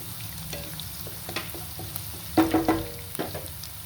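Onion frying in a pan with asafoetida and salt, a low continuous sizzle broken by a few clattering stirs and scrapes, the loudest cluster midway, close by.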